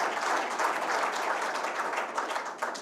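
An assembly audience applauds officials at the opening of an ordinary council session, a continuous crowd of clapping hands at moderate volume, steady with slight swells, without speech.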